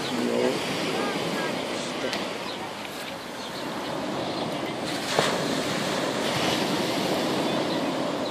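Sea waves washing onto the shore in the evening at Mersin, a continuous broad surf roar with wind noise, as people talk in the background.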